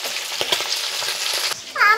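Chili chicken fries in a wok with a steady close sizzle throughout, a few sharper crackles, and a brief high squeal near the end.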